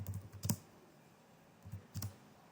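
Typing text on a computer keyboard in a quiet room: two short clusters of soft clicking keystrokes separated by a pause of near silence, faint and close.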